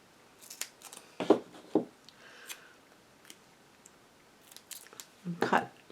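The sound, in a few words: scissors cutting a small piece for a card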